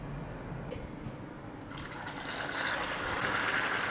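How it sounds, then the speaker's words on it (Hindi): Sabudana vada, sago patties, go into hot oil and set off a steady frying sizzle that swells into a brighter, fuller hiss partway through and keeps going without a break. "अब इन्हें हम तलेंगे।"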